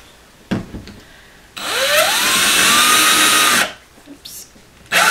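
A power drill drives a screw into a wall during a drywall hole repair, whining loudly for about two seconds with its pitch rising as the motor spins up, framed by brief clicks and handling noises.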